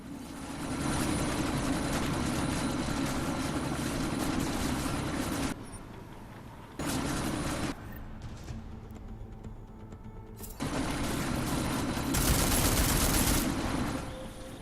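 A helicopter in Deus Ex: Mankind Divided roars loud and close, its heavy sustained drone broken by brief drops and mixed with bursts of gunfire.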